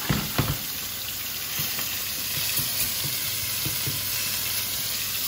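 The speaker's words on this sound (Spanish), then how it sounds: "La cebolla. ¿Vale? Que se vaya friendo." Chopped onion fries in hot oil in a pan as the base of a sauce, giving a steady close sizzle with occasional clicks and stirring knocks.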